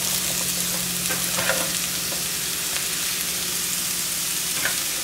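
Onion and chile fry in a pan alongside potatoes, giving a steady, close sizzle with occasional soft crackles and no one speaking.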